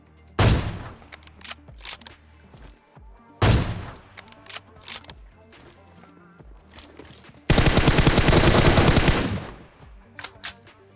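AWM sniper rifle shots in a battle royale video game, several sharp loud reports spaced a few seconds apart, followed by a dense burst of rapid automatic gunfire and a few scattered later shots, with no talking.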